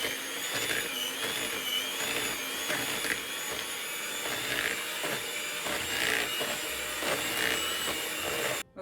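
An electric mixer whips cream cheese with condensed milk for a layered citrus cheesecake, a steady whirring drone with rhythmic scraping pulses as the beaters turn through the thick mixture, close and alone.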